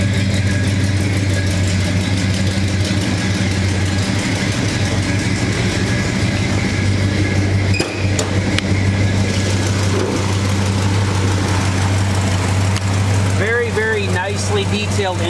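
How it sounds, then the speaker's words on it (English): A 1969 Pontiac GTO convertible with a rebuilt engine idles nearby, giving a loud, steady, low rumble with a lumpy pulse throughout, and a voice talks over it. "Car's got a great sound to it."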